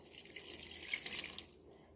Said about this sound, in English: Let's go ahead and put that 1 cup of warm water.